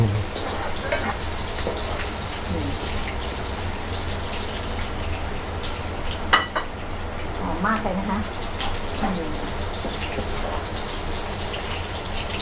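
Garlic stir-frying in oil in a wok for a lettuce and oyster sauce dish, giving a steady close hiss and crackle with a few sharper clinks, while someone talks over it.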